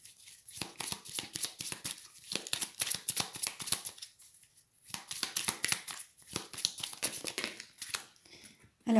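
Tarot cards are shuffled and flicked close by in quick rhythmic riffles and slides, broken by two short pauses.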